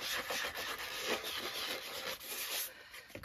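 Sanding the surface of a metal tin in swirling strokes, a close, soft, uneven rubbing scratch that rises and falls with each circular pass over a few seconds.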